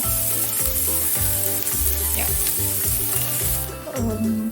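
Grated coconut frying in a pan, with steady loud sizzling throughout and rhythmic low thumps of music playing underneath.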